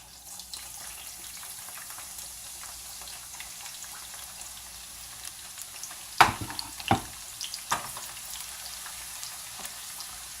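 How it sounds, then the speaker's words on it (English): Cabbage goes into hot red oil and fries with a soft steady sizzle, broken by a few sharp crackles and pops near the end. "this is the red oil. I am going to add my cabbage first."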